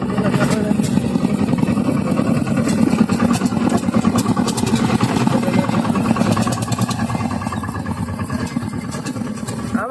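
A diesel tractor engine idles close by with a steady, rapid chugging throb, running evenly throughout with faint voices in the background.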